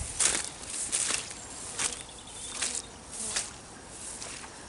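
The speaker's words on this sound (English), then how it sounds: "The bees flying around my head." Faint buzzing of honeybees drifting past in short swells at an apiary, soft and nearby, with occasional rustling and no talking.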